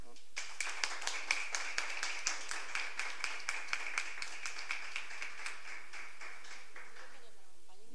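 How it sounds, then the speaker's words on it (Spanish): An auditorium audience claps for two women candidates and a man candidate at a university rectorship election forum in San José. Steady, moderate applause fades out gradually toward the end. "a nivel del auditorio le demos un aplauso a las dos candidatas y al candidato"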